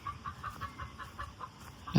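A hen in a chicken coop clucks after laying an egg, a rhythmic run of short close clucks repeating about every quarter second, ending in a louder outburst.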